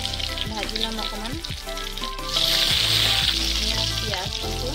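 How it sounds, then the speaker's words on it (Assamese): Cardamom, cloves, cinnamon and bay leaf fry in hot oil with a steady close sizzle that swells louder midway, under music with a melodic tune. "ইলাইচি দিছোঁ, লং দিছোঁ, দালচেনি দিছোঁ আৰু তেজপাতটো মই ভাজি ল'ম অকণমান।"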